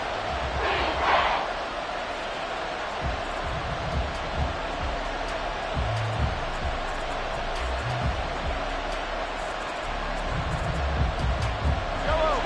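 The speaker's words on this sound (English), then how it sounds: "This crowd doing all they can." Stadium crowd noise from a Madden NFL football game forms a steady roar throughout, with a few surges of cheering, while a commentator talks over it.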